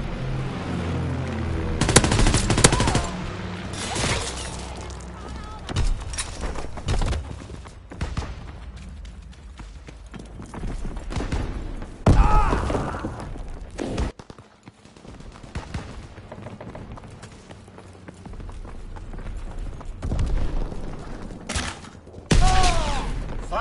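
Heavy machine-gun bursts and explosive gunfire from a PS4 military shooter, loud and near, with rapid fusillades and thudding impacts recurring throughout and no clear talk over them.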